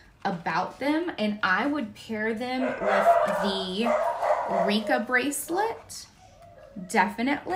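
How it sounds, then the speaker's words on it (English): Several dogs bark in repeated bursts near the microphone at home while someone talks over them. "Sorry about my dogs."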